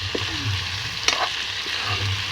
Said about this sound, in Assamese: বিলাহীখিনি দি অলপমান আগে ভাজি ল'ব লাগিব